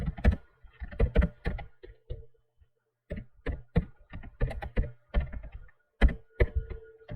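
Typing on a computer keyboard, with close, crisp clusters of key clicks arriving in irregular bursts and separated by short pauses.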